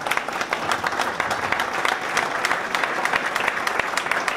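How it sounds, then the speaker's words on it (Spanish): Sustained applause from guests at a tribute luncheon, dense steady clapping throughout, fairly close and loud with no voices rising above it. "Quiero hacer lo propio y extender este aplauso"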